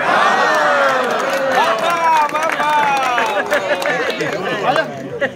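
An audience at a singer's golden jubilee musical evening bursts into loud, close applause with cheering, whoops and excited shouting voices layered over the scattered, steady clapping.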